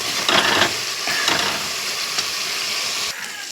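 Ginger and cumin spice paste sautés in hot oil for a poppy-seed fish curry, giving a steady, close, broadband sizzling hiss that swells briefly a few times and then settles a little softer near the end.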